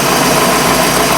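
A carbureted Mercruiser 5.0 V8 marine engine running rough, a steady close, loud droning rumble with no talk over it.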